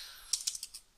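Quick, light taps on a computer keyboard, about five keystrokes in under a second, close and quiet with no talking.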